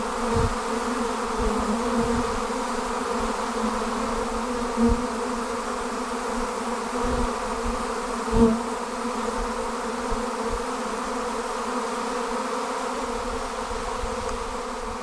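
A good-sized honey bee swarm buzzing loudly before being hived late in the year, a dense continuous drone with steady harmonic hum and occasional soft thumps, no voices.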